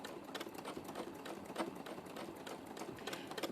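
A sewing machine runs steadily during free-motion quilting, making a fast, even mechanical chatter of needle strokes that stays faint and continuous throughout.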